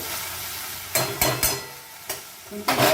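Jute leaf and shrimp curry being stirred in a pan: a quiet simmer punctuated by several distinct scraping strokes of a utensil against the pan, close and clear, with no talking.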